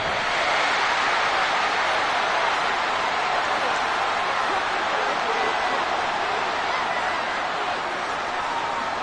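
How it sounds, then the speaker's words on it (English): A home crowd applauds and cheers after a Green Bay football victory, a dense, steady roar of clapping and crowd noise with murmured voices throughout the stadium. "the home crowd applauding"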